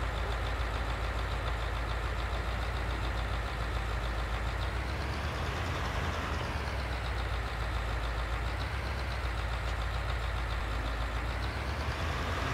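A Magirus-Deutz Muni municipal truck engine in Farming Simulator 22 drones steadily and loudly while driving, a continuous mid-pitched rumble with slight rises in revs and no talking.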